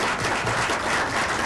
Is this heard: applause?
yes